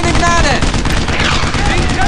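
Loud, dense gunfire in the World War II shooter Brothers in Arms: Earned in Blood, with rapid overlapping shots and battle noise packed together in a continuous barrage.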